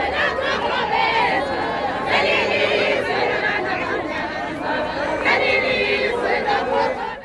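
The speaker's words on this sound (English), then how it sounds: "There were big crowds along the road from Mthatha Airport to Kunu." Crowds lining the road for Nelson Mandela's funeral procession from Mthatha Airport to Qunu: a continuous murmur of many voices, loud and close, with chatter and calls swelling in waves.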